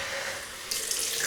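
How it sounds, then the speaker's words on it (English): Cold tap water runs into a sink to rinse after a shave, a steady close splashing stream that turns brighter and louder partway through the brief moment. "so we'll just rinse off with cold water"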